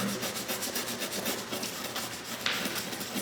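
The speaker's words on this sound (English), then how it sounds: "a small scrub brush, some denatured alcohol in a cup, and a rag. So I just get it wet, start scrubbing." A small scrub brush wet with denatured alcohol scrubbing shellac off a Victorian fireplace mantel applique, giving a close, steady rasping rub with quick back-and-forth strokes.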